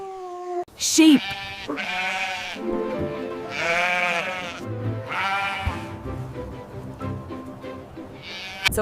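A sheep gives several long, wavering bleats in close succession, strong and near, with brief gaps between the drawn-out cries.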